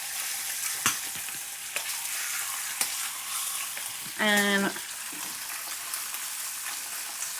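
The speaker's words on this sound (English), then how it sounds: "I'm just turning on the other burner for the patties." Patties fry on a stove burner with a steady, close sizzle throughout, broken by faint clicks and a short tonal burst near the middle; a voice speaks briefly.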